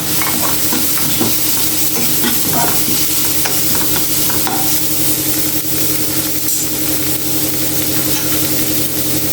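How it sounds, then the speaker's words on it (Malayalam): Steady sizzling and stirring of spinach with coconut pieces in a hot pan, a dense continuous hiss with occasional scraping, fairly loud and close, no talking. "പച്ചമണം പോണ വരെ നമുക്കൊന്ന് വാട്ടിയെടുക്കാം"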